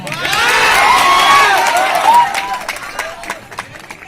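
Schoolchildren at a science quiz prize event shouting and cheering together, a loud surging burst of young voices with whoops that swells then breaks into scattered yells and claps as it fades.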